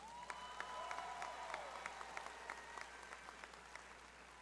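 Graduates receiving applause at an Arizona State University spring commencement: a large crowd's steady, distant-sounding clapping with sharper individual claps popping through, continuing for several seconds.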